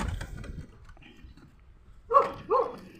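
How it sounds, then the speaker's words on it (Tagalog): Two sharp dog barks close by, following a stretch of faint low rumble and background noise. "May aso namang nasa labas."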